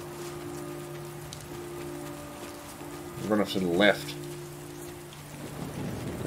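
Steady rain falls throughout a scene in the video game Last Day of June, with a low rumble of thunder beneath it and a voice speaking briefly in the middle.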